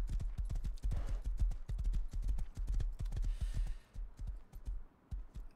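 An old horse in the game Rust clip-clops along in a quick steady rhythm of hoof strikes, fairly close, with the pace slowing and thinning toward the end.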